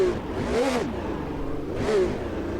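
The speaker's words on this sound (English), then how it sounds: "So here we are, Brabham BT46B here at Imola" Engine of a Brabham BT46B fan car at Imola 1972 in the racing sim Automobilista 2, two rising and falling revs a second or so apart over a steady running hum.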